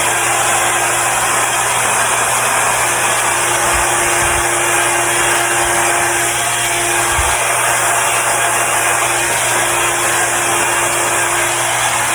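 Air blown hard across an acrylic paint pour, a loud, steady close-up whooshing roar like a hair dryer that holds constant throughout, with no speech.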